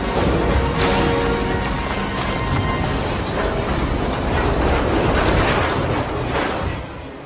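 A train in the video game Star Wars Jedi: Fallen Order roars past in a loud, dense rumble of rolling clatter and blasts that continue for several seconds before easing off slightly at the end.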